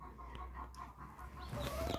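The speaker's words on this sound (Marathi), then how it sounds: "कोंबडी कुटकुट केली का पिल्लीजवळ जाते ती तिच्या." Hen softly clucking to her chicks, a few low, short clucks close by over a muffled, noisy background.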